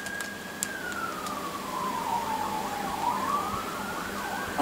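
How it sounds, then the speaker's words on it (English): A single police car siren wails in the distance, one slow rising and falling tone that carries steadily behind a faint indoor background with no talk. "I don't know if you can hear the sirens in the background."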